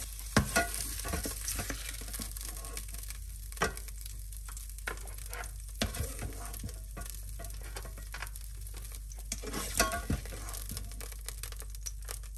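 Toulouse sausages frying in a pan, giving a continuous close crackling sizzle with scattered sharp pops and spits, moderately quiet, with steady low hum underneath.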